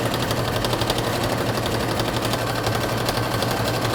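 A sewing machine runs steadily at close range, stitching fabric for a cosplay sash, with a continuous mechanical buzz and fast rhythmic needle chatter and no pauses.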